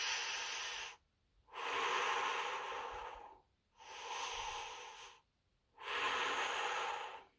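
Slow, deep breathing practice for singing: three long, breathy hisses, each about a second and a half, separated by short quiet gaps, close and soft, with no talking.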